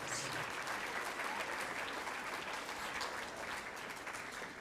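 Applause from the crowd at a 4-H awards banquet for public speakers and demonstration presenters, a steady, even wash of many hands clapping throughout, heard from some distance.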